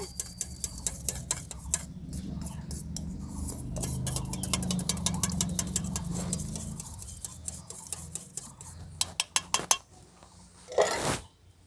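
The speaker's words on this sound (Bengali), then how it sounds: "এই টক দইটাকে খুব ভালো করে আমি ফেটিয়ে নিচ্ছি" Sour yogurt whisked in a bowl, rapid rhythmic clicking strokes of utensil against the bowl that speed up and grow sharper toward the end, followed by a short clatter.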